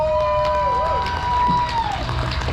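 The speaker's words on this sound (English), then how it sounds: "So please give them a round of applause." Outdoor concert crowd at a city event in Garland, Texas, cheering and shouting with scattered clapping, a loose moderately loud roar with high whoops and whistles over a low rumble.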